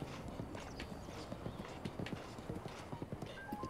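Horse hooves clip-clopping in a rapid, irregular gallop across terrain in The Legend of Zelda: Breath of the Wild, moderately close with faint ambient game sound beneath.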